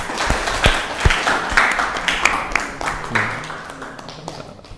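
A small indoor audience claps at a university presentation, with scattered uneven hand claps that build briefly and then thin out and fade over a few seconds.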